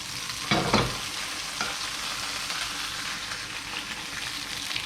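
Chicken breast sizzles in a frying pan, a dense continuous hiss, with a brief scrape and clatter of stirring near the start and no voices.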